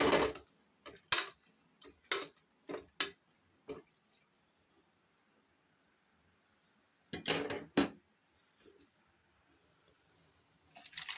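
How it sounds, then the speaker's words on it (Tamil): Boiled potatoes being mashed with a masher, a series of sharp metallic clacks and taps against the pot, close and distinct, with a pause in the middle before another quick burst. "அதை ஒரு மேஷர் வச்சு நல்லா மசிச்சுக்கலாம்"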